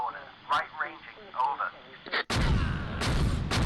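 Heavy artillery fire in the Close Combat war game, set near Caen in June 1944: a voice speaks over radio-like chatter, then a loud, sustained burst of booming blasts takes over and rumbles on.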